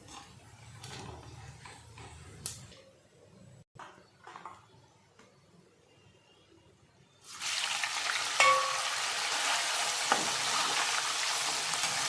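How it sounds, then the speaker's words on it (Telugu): Chicken pieces frying for a chicken pachadi pickle: a faint clattery background at first, then a loud, dense sizzle suddenly bursting in and holding steady, close-up with no talking. "ఇలా ఫ్రై చేసుకోవాలి, లేదంటే పచ్చడి ఖరాబ్ అయిపోతుంది."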